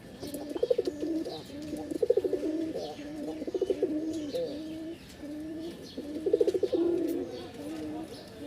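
A pair of pigeons, a male and a female, coo close by in repeated throaty bursts separated by short pauses, while someone talks.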